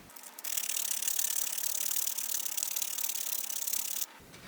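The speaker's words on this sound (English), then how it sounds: "I'm just gonna finish that off with sandpaper" Sandpaper rubbed over a wooden trout glide bait, a continuous close rasping scratch lasting about three and a half seconds, with quiet moments before and after and no voices.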